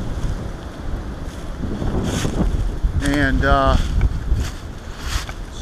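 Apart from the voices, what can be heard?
strong wind blowing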